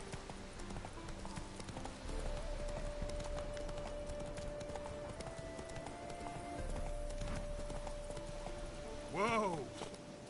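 Horse hooves clip-clop steadily across the ground in The Witcher 3, joined by a brief whinny near the end over a continuous game soundscape with a sustained tone.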